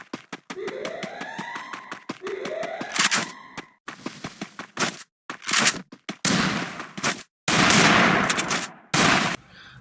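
Gunfire from a mobile shooter video game comes in loud bursts, rapid automatic volleys and single shots with short gaps of silence between them.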